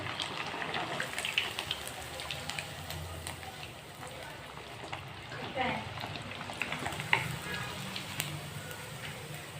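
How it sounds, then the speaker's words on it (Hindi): Pieces of fish frying in hot oil for fish pakora, a steady dense sizzle and crackle of bubbling with brief louder pops, running continuously at close range while a person talks over it. "जैसे जैसे बबल्स बनना कम होंगे हमें पता चलेगा कि यहाँ पे हमारी जो फ़िश है फ्राई हो चुकी है"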